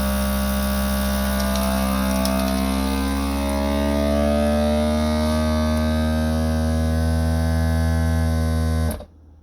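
A FoodSaver vacuum sealer pumps air out of a bag with a loud, steady motor drone whose pitch shifts slightly as the bag tightens, then stops abruptly.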